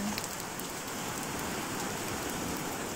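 Heavy rain pours down steadily with no wind at a shore fishing spot, a dense, even hiss of drops that holds without let-up.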